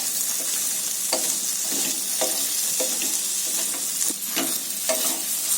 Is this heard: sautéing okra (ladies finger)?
yes